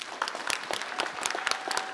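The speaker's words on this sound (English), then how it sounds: "Great applause" An audience at a public event in Wroclaw breaks into warm applause for a guest speaker, a dense, steady patter of many hands clapping nearby without pause.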